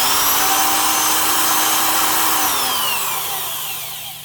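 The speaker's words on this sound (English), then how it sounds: "Milwaukees always sound really nice." A Milwaukee 1001 half-inch D-handle drill runs free at high speed, a loud, steady motor whine that starts full and winds down toward the end, heard alone with no talking.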